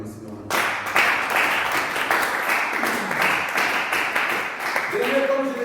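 Church congregation applauding and cheering in praise during a French-language service, a dense sustained wash of clapping with mixed voices throughout, ending with a brief tonal voice.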